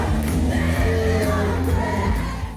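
A crowd of school kids in a Long Island school cheers and screams, loud overlapping yells and whoops filling the space continuously, close and energetic.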